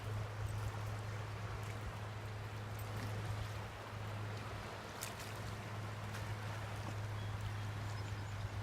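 The flooded Weiser River near Midvale, Idaho, in 2019, rushing past a severely eroded bank: a continuous broadband roar of fast water, steady and close, with a low hum underneath and no talk.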